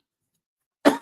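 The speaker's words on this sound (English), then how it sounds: "Got some coughs this morning." A single short cough follows near-total silence, close and fairly loud at the very end.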